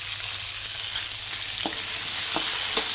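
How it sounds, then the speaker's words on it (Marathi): Peas and tomatoes with turmeric sizzle in a pan, a steady close frying hiss broken by a few soft scrapes of a spoon stirring, with no voices. "हे सगळं मिक्स करून घ्यायचं."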